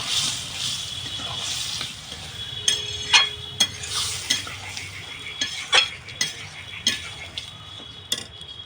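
Spice masala for chana dal fries in a pan while a utensil stirs it, giving a soft sizzle under repeated scraping strokes and clinks that come close and fairly loud, with no speech.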